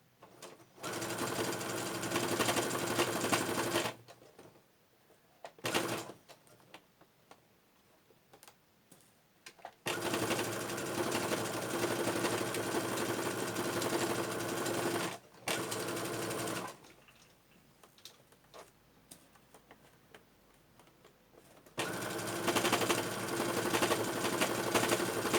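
A sewing machine stitches rucksack straps, running back and forth in three long, loud, steady bursts of rapid mechanical chatter. Short pauses separate the bursts, with faint handling noises in between.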